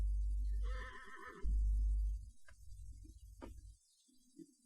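An injured horse in a stable lets out a loud, close whinny, followed by quieter snorts and low rumbling, with no talking over it.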